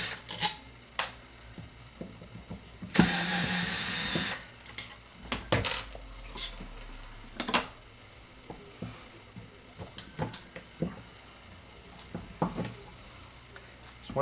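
A power tool whirs in one short burst to back screws out of a 2005 Cadillac Deville blower motor, followed by scattered clicks, taps and small metallic handling noises nearby, fairly quiet overall.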